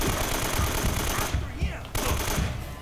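Gunfire from the Uncharted video game: a dense, rapid burst of automatic shots rattling close and loud, pausing briefly before firing resumes.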